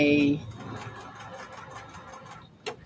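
A home sewing machine stitches at a short stitch length, set to 3. A brief louder whirring burst opens into a softer, steady mechanical hum, followed by a single click near the end.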